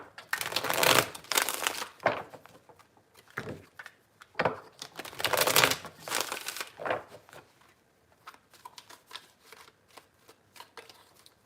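Tarot cards are shuffled by hand three times in a row, crisp riffling bursts with short pauses between, close and fairly quiet, followed by lighter card handling.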